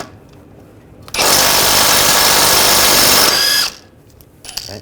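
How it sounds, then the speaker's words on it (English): A power tool spins an 18mm socket to remove a steering rack nut on a 2009-2017 Volkswagen Tiguan, a loud, steady high whine lasting about two and a half seconds, then stopping abruptly with quiet shop noise before and after. "Using an 18mm socket, take this nut off."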